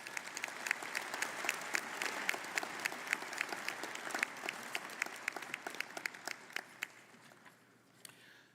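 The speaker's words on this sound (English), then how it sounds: "please join me in giving Corewell Health a round of applause" Graduation audience applauds steadily at a community college commencement, many hands clapping in a dense, even patter at moderate distance that slowly thins and fades out at the end.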